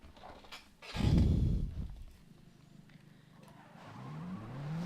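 A car engine in the Need for Speed World racing game bursts loudly at a race start, then drones on at a lower level and climbs again in a rising rev toward the end.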